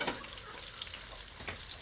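Garlic and then onion sautéing in an oil-filled pan for a sardine and kangkong dinner, giving a steady, close sizzle with a few brief stirring scrapes and no talking.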